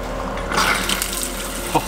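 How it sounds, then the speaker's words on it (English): Cold water runs from a just-repaired faucet in a boat's galley, a steady broadband hiss of flow lasting throughout at moderate level, with a brief splash or knock near the end. "if I open up the cold water, do we have a flow again?"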